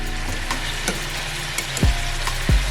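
Curry chicken pieces are turned in a hot frying pan, a steady close sizzle punctuated by light spatula taps and two heavier thumps as pieces flip over.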